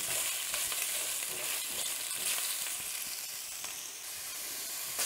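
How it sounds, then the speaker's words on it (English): Shrimp stir fry in a hot pan with a dense, continuous close sizzle and faint stirring movements underneath, steady throughout with no voices. "and just stir fry them"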